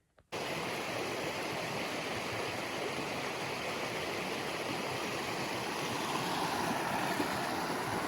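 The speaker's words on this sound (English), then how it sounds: "This is the Thompson River." The Thompson River in Rocky Mountain National Park rushes past as a continuous, full wash of flowing water that begins abruptly after a brief moment of quiet and holds steady throughout.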